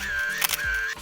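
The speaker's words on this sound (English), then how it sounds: "You will hear a shutter sound and see a flash if you have it enabled" An iPhone camera makes one crisp shutter click while a photo is taken, with a soft steady tone in the background.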